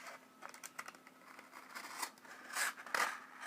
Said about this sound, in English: We just got something here to cut.